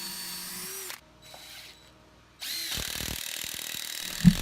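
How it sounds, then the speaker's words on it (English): A power drill drives long 5 5/8 inch screws into a wooden garden bench, whirring loudly at first, stopping, then starting again with a steady rising whine and a sharp clunk near the end. "I want to have it held in very snug before I begin to screw it together"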